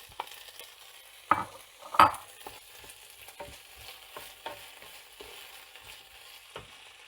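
Half-fried onions in a pan with a cup of mixed vegetables, a faint low sizzle broken by spatula scrapes and a couple of louder knocks against the pan, no voices.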